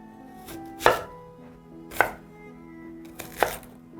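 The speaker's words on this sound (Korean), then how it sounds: "자, 양파를 썰어 보겠습니다." A knife chops through an onion on a board in three sharp, separate strokes, each a crisp close thud, with faint background hum between them and no talking.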